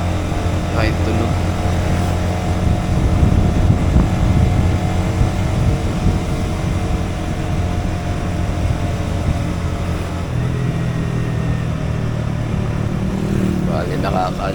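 A Honda Winner X motorcycle engine runs steadily close by, a continuous low droning hum with even harmonic tones that shift slightly partway through.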